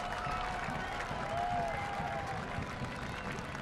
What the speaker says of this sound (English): The Hartford fans applauding his miss.